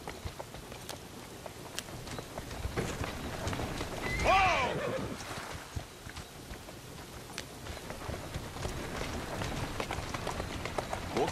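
Horse in the Assassin's Creed Syndicate video game whinnies once mid-clip, a rising and falling neigh, over steady clip-clop of hooves and light rain-like patter, with faint talk nearby.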